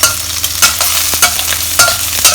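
Prawns fry in a pan for claypot Mee Tai Bak, giving a steady close sizzle. Periodic louder scrapes and clacks of stirring come through about every half second.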